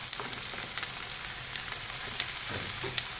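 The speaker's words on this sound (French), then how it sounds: "de faire cuire nos lardons et notre oignon à peu près 2 minutes." Smoked lardons and chopped onion fry over medium heat in a pan, giving a steady, soft crackling sizzle with scattered pops and no voices.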